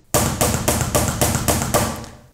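A slow hammer blast beat on a drum kit, death-metal style: about eight evenly spaced, loud unison hits of cymbal, snare and kick, each ringing briefly before the next, then a short decay.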